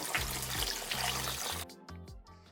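Water is poured into a container to dissolve salt for a brine for winter preserves, a rushing gurgling pour that cuts off near the end, with brief dribbles after and no talk.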